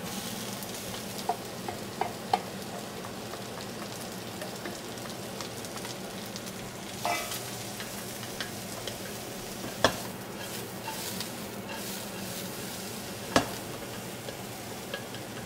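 Soy sauce chow mein with onions is stir-fried in a wok, making a quiet, steady sizzle like light rain, with occasional sharp clicks and knocks of the utensil.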